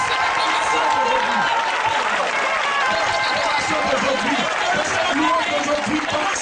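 Church congregation clapping loudly and steadily in a dense, continuous wash of applause, with voices and crowd chatter mixed underneath throughout.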